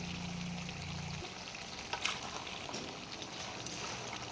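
Goat head meat fry being stirred in a pan after coriander leaves go in, a soft continuous sizzle with faint scraping and clinks, moderately close and steady throughout with no talking.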